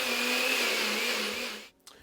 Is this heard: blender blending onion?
yes